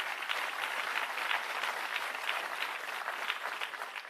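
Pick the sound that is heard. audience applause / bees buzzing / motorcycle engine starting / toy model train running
audience applause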